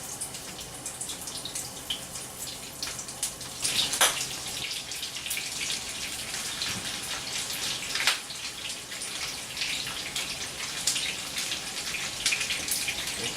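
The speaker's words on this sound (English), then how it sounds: "I'll give my hands a quick rinse here." Tap water runs steadily over hands being rinsed in a kitchen after handling raw meat, a soft continuous splashing with a few louder spatters and no talking.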